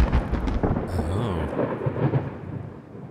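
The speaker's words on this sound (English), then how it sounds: "As usual, it's time for a storm in Tarkov." Game thunderstorm in Escape from Tarkov: a deep rolling rumble of thunder swells and fades across the moment, with a brief sharper crackle near the start.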